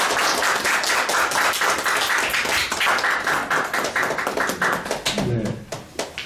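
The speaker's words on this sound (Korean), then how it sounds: "뜨거운 박수로 유성락 의원님의 강연을 청하겠습니다." An audience at a policy lecture forum in a Seoul conference room claps warmly to welcome the lecturer, a brisk, dense round of applause that thins and fades away over the final second.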